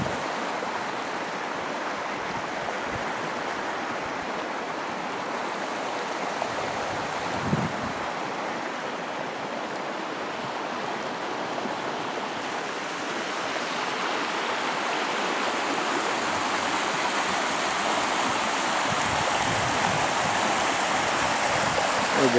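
Mountain river rapids at the Villa Rapids near Villavallelonga rush in a steady, broadband roar, constant and close with no pauses, swelling slightly louder toward the end.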